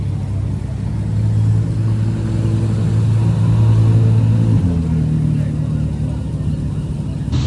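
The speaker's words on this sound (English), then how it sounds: "And there goes the Speedtail." A McLaren Speedtail drives past at a car week gathering, a close, loud engine drone that holds steady then drops in pitch partway through as it moves on, under faint crowd noise.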